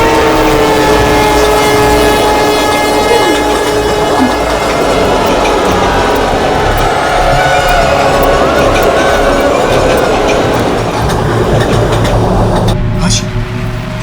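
A train rumbles steadily past close by, loud and continuous with grinding, ringing rail tones throughout, under a dense layered mix, before the noise shifts abruptly near the end.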